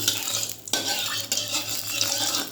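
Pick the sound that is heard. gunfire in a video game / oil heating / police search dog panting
oil heating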